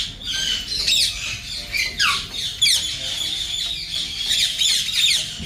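Young fancy crested birds squawking repeatedly in harsh, rising and falling calls, several overlapping close to the listener with no talk.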